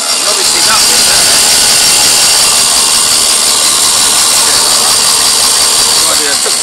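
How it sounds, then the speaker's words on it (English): A Toyota Prius engine cranks on its starter motor with the spark plug removed, giving a loud, steady mechanical whirr and hum that runs through the whole stretch, with a voice talking faintly underneath. "Okay, well, I took the spark plug out. Right, just running on a starter motor."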